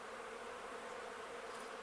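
During an inspection of an apiary hive, a mass of honey bees buzzes steadily. The drone is dense and continuous with no breaks, fairly faint, and there is no talk.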